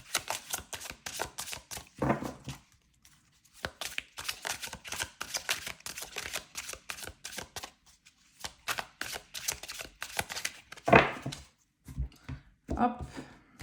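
Tarot cards are drawn from a pile, giving quick papery flicks and soft slaps in irregular bursts, close and crisp, with a voice speaking between them.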